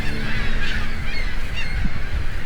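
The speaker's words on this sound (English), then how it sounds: "It's more like a seagull parade." Seagulls call repeatedly, honking and crying over a steady, loud background roar, as if a flock is gathered nearby.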